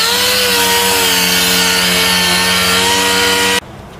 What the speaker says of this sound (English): let me start sanding them up and preparing them